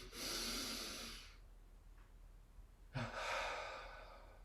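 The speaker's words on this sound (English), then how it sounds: "You might take a double inhalation, lightly tense the whole body, and double exhale, relax the body." Deep yoga breathing exercise: a long audible inhalation, a pause, then a second breath with a soft snort-like start, each a breathy whoosh heard alone and close.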